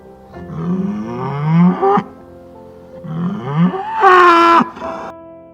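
Beef and dairy cattle moo loudly and close by, three long drawn-out calls rising in pitch, with short pauses between them.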